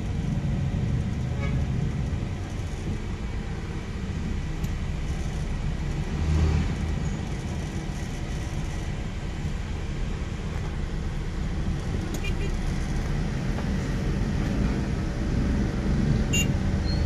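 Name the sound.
road traffic, many passing vehicles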